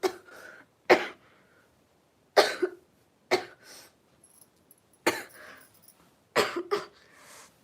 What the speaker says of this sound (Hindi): मेरे को खांसी लग रही है।